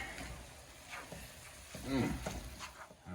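Half a cup of rice cooks in a hot pan with a soft, low sizzle and scattered scraping stirs, fairly quiet, with a brief louder clatter partway through.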